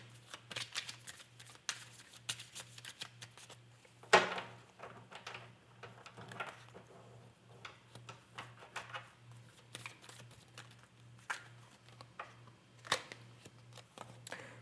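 A tarot deck is shuffled by hand for a reading, giving soft, close papery riffles and slides in irregular bursts with occasional sharper taps, quiet over a faint steady hum.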